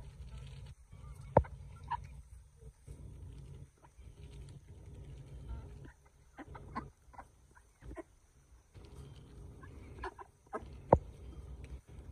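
Chickens clucking faintly outdoors among ducks in a yard, scattered short calls with a couple of sharper squawks over a low steady background hum.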